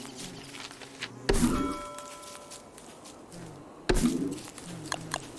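Swarm of bees buzzing in the game Don't Starve Together, a steady insect drone broken by two sharp, louder bursts, with no talking.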